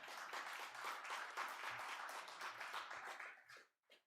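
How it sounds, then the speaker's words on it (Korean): A church congregation claps together during a Sunday worship service, a steady wash of applause that holds for several seconds before thinning out to a few scattered final claps. "You can clap."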